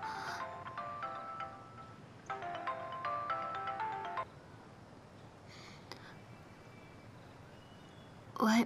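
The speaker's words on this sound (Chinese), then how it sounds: "你手机在响，不接吗？" A mobile phone ringtone plays a bright, repeating melodic phrase for a couple of seconds in a quiet indoor space, then stops. A few faint clicks and a short burst of noise follow.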